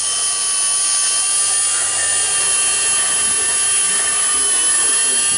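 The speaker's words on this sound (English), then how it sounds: "So Daniel will just run the reamer through it. He's using the drill." A drill runs a reamer through a steel kingpin bore, giving a loud, steady high-pitched whine that holds without a break from start to finish.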